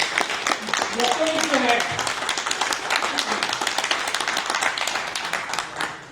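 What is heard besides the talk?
audience clapping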